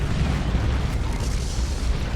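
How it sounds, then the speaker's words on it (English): An orbital bombardment nuke strikes in Dawn of War 2 with a loud, sustained low rumbling boom, dense and rolling for the whole stretch, and no voices over it. "One way to stop a late push is with a nuke in your face."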